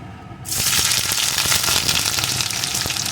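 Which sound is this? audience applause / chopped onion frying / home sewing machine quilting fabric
chopped onion frying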